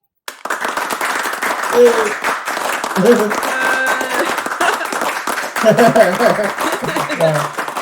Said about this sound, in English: Give a round of applause to Maria.